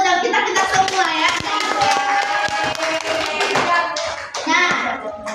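A classroom of children clapping hands together, brisk and fairly loud, a busy patter of claps with a teacher's voice and kids' voices mixed in.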